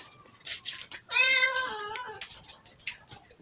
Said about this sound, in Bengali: বিড়ালটা ময়া ময়া করছে।